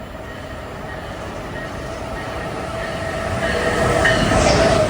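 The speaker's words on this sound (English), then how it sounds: "613 picking up speed after leaving Back Bay is Amtrak 2193, Boston, New York." A passing Amtrak Acela train's rumble and rail noise steadily grow louder as it gains speed leaving Boston's Back Bay station, with a faint high whine from the wheels.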